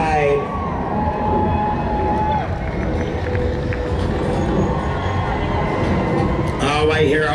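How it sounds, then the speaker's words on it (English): Crowd cheering and whooping along the 2024 Spokane Pride parade route, continuous and fairly loud, with voices of nearby people talking throughout. "I hear all this cheering happening"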